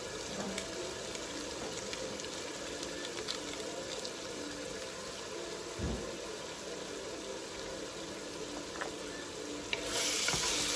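Steady crackling sizzle of vegetables frying in a pan for seafood rice, continuous and close, with a few soft clinks and a brief burst of hiss near the end.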